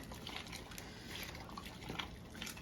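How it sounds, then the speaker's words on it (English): Yellow potatoes being stirred into a pot of corn chowder, giving soft, wet sloshing and liquid drips that continue steadily and quietly throughout. "We're just gonna stir those in."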